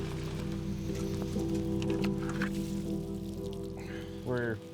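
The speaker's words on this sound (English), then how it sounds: "Still has not stopped raining." Steady rain patters on a surface while packing up camp, a constant wash of drops under a low hum, with a brief rising tone near the end.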